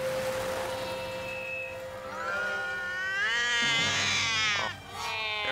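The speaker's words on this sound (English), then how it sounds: "there's that stupid cat" Cartoon cat meowing and yowling in an animated film, several drawn-out wavering cries rising in pitch and growing loud near the end, with a quieter meow first and no talk.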